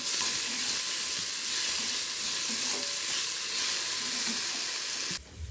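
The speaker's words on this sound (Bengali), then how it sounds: "এবার দিয়ে দিচ্ছি কিছুটা মুগ ডাল, এটাকে একটু ভেজে নেব লাল লাল করে।" Mung dal fries in hot oil in a pan while being stirred, a loud steady sizzle with scraping stirring strokes that cuts off abruptly near the end.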